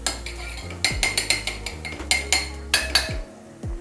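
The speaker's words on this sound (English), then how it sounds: "Stir to get the spices and herbs releasing their fragrance." A metal utensil scrapes and clinks against a pan while spices and herbs are stirred for dal, with quick, uneven strikes close by and short pauses between bursts.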